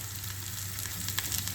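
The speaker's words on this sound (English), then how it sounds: "Spread the vegetable oil, cauliflower, broccoli," Cauliflower and broccoli fry in vegetable oil in a very hot pan, giving a steady, even sizzle with fine crackling throughout, close and moderately quiet, and no voices.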